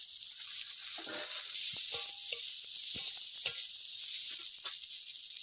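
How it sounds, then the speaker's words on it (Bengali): Stalks and potatoes frying with salt and turmeric in a pan for a small fish curry, a quiet, steady sizzle broken by a few soft stirring scrapes. "ভালো করে ভাজা হয়ে গেছে"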